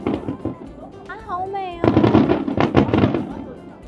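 Fireworks bursting over the Sumida River at a summer fireworks festival in Asakusa, Tokyo, watched from a rooftop terrace; after a voice, a dense run of loud overlapping booms and crackles follows.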